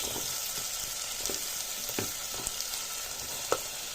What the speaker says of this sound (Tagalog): Medyo lutuin natin yung kamatis niyo para lalong lumasa mga boss.